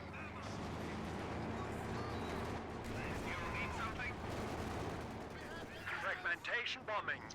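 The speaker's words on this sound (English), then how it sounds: "Fragmentation bombing." Fragmentation bombing in a strategy video game: dense, continuous explosions and gunfire rumbling loud throughout, with sharper blasts near the end.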